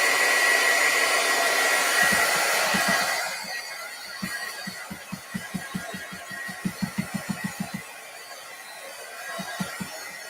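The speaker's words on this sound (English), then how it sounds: "Now I am going to try to dry my little gel pen just for a second." A small dryer blows a steady whir over freshly stamped gel pen ink for about three seconds, then shuts off, leaving faint background hum and a run of quiet rhythmic ticks.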